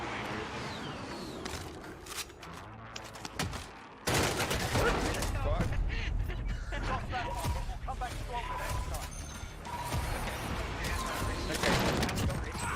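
Rapid gunfire and sniper shots from an online shooter video game, dense bursts of firing and impacts filling the whole stretch at a steady loud level, with a player talking over the action.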